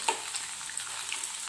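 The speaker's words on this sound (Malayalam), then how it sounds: "ബാക്കിയുള്ള കോളിഫ്ലവർ നമുക്ക് പൊരിക്കാൻ വേണ്ടിയിട്ട് ഇട്ട് കൊടുക്കാം" Cauliflower pieces deep-frying in hot coconut oil, a steady dense sizzle and crackle running unbroken throughout at close range, with small pops and bubbling bursts but no voices.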